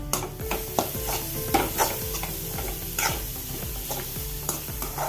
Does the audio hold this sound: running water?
no